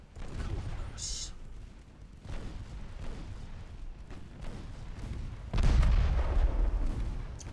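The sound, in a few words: naval gunfire in Ultimate Admiral Dreadnoughts video game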